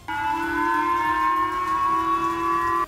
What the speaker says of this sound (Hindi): इस बार किम के मिसाइल फायर करते ही खतरे का सायरन जापान में बजा